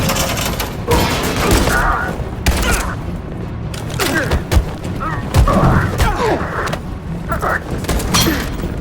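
Gunfire in a chaotic firefight from Detroit: Become Human, with repeated bursts and heavy thuds spread through the scene under shouted voices and a constant din of battle.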